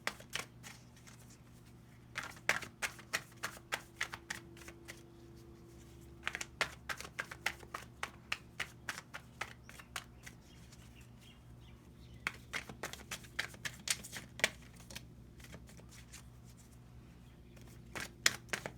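Tarot cards riffled and snapped in quick, crisp bursts, with scattered flicks and taps between them, close by and fairly quiet, no talking.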